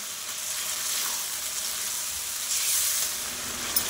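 Mutton frying with spices in a pan over medium heat, a steady soft sizzle and hiss that holds evenly throughout, with a faint stir near the end and no talking.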